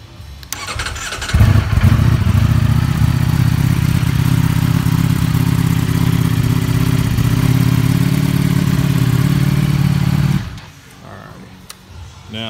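A 2021 Ducati Streetfighter V4 motorcycle fires up with a brief starter whir, then its engine settles into a loud, steady idle rumble close by for about nine seconds before cutting off.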